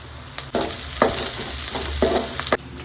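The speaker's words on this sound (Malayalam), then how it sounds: "ഇപ്പൊ നമുക്കതിലേക്ക് പച്ചമുളക് അരിഞ്ഞു വെച്ചിരിക്കുന്നത് ഇട്ട് കൊടുക്കാം." Chopped green chillies frying with softened onions in a pan for egg curry, giving a loud, close, continuous sizzle broken by a few bursts of stirring and scraping, with no talk.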